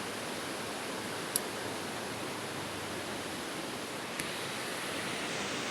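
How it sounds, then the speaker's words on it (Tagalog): A river in the Malitbog mountains flows with a steady, broad rushing wash, continuous and fairly loud throughout, with two brief sharp ticks standing out over the constant water. "Sarap ng ilog"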